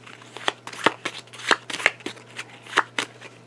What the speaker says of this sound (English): And then we're going to shuffle our level 1s.